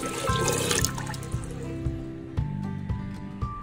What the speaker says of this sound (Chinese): 水倒入去